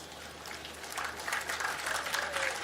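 Scattered hand-clapping from an audience, starting faint and swelling into a steady round of applause, moderately distant.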